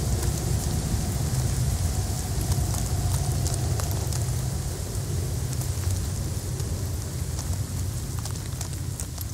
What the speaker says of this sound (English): Why is it always raining on every planet?